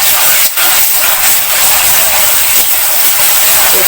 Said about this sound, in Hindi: ये 2 चम्मच अदरक लहसुन का पेस्ट डाला